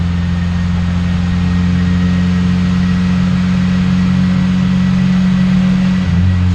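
A Honda CR-V with a naturally aspirated B20V engine runs on a dyno at a steady, loud, close low drone, holding an even pitch with a slight change near the end.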